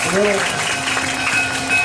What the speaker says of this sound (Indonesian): tepuk tangan buat Jawara Patra yang tangguh yang mantap.